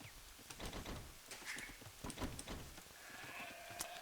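Sheep bleating from Age of Empires II, several short bleats scattered through a busy stretch of game sound effects, fairly clear against clicks and background audio.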